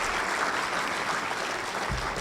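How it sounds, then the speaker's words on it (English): A full room of attendees at a 2018 business summit claps steadily, a thick, even roar of hands that holds at constant loudness throughout. "So give everyone a round of applause."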